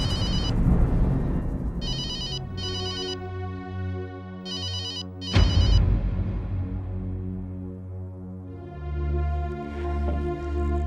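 An office telephone rings with a repeated electronic ringtone in spaced bursts over a bed of dramatic tonal background music, moderately loud, with no talking.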